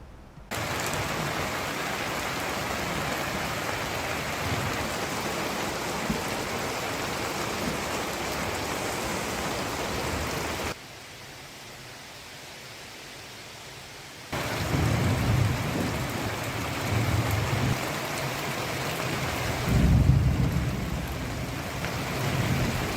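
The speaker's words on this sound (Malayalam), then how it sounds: "ഇടുക്കി ഹൈറേഞ്ചിൽ ഇന്ന് ഇടിമിന്നലോട് കൂടിയ മഴ പെയ്തിറങ്ങി" Heavy summer rain pours steadily in the Idukki high ranges of Kerala during a thunderstorm, a dense close hiss that briefly drops away and returns, with low thunder rumbling near the end.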